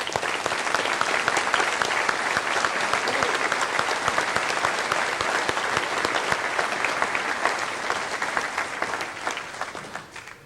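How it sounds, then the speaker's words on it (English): Seniors at a 1999 Winooski High School graduation applaud their retiring superintendent, a loud, dense, sustained ovation of many hands clapping that carries on without break and tapers slightly at the end. "I ask the seniors to join me in applauding the many contributions George has made for us in this term of office"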